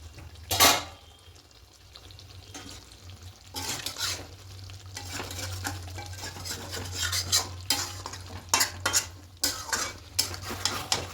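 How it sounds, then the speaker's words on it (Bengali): A spoon stirs chicken in a cooking pan over medium heat, scraping and clinking against the metal in irregular bursts over a quiet sizzle. "একটু ভালো করে নেড়ে নেব।"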